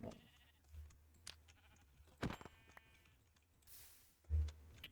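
Sheep bleating in Minecraft, with a few short bleats spaced across the stretch amid quiet game ambience, soft clicks and thumps, and a louder bleat near the end.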